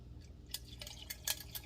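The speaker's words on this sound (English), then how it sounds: "Pour the rest in this glass, yeah." Iced coffee poured into a glass in a home kitchen, a few faint liquid splashes and trickles with small clinks, quiet and close, no talking.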